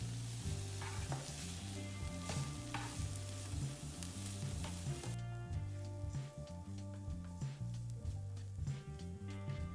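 Garlic sizzles steadily in a pan for spaghetti sauce, a close, continuous frying hiss with a rhythmic low patter running under it the whole time and no talking.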